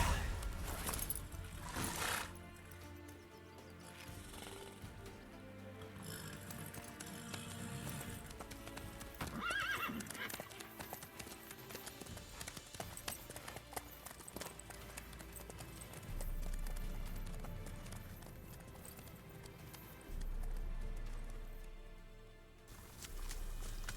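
Horse hooves clip-clop along with a whinny and neighs from a galloping mount in The Witcher 3, set against a steady game music and ambience bed, with the animal sounds fairly close and continuous through the scene.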